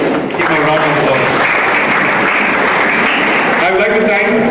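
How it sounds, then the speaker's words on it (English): An audience at a history talk on Goa's Inquisition gives a loud, dense round of applause for the moderator, continuous throughout with voices talking over it. "Give a round of applause."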